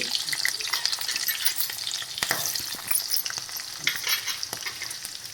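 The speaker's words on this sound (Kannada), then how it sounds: "ಇದೆಲ್ಲ ಒಂಥರ ಫ್ರೈ ಆಗ್ತಾ ಇರೋವಾಗ ಒಂದೊಂದೇ ತರಕಾರಿಗಳನ್ನು ನಾನು ಹಾಕ್ಕೊಳ್ತೀನಿ" Green chillies, onion and other vegetables fry in a pan, a close, continuous crackling sizzle with bright spitting pops and no voices.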